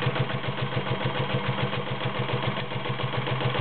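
Kenmore 1229 sewing machine stitching through two layers of garment leather, a steady fast rhythmic mechanical chatter running continuously at close range with no talking.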